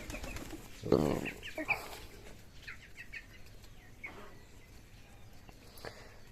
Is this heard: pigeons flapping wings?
yes